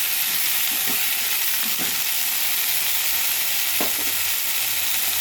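Cut okra pieces frying in a pan for a tamarind stew, a dense, continuous sizzle and crackle close by, with a few brief stirring knocks breaking through.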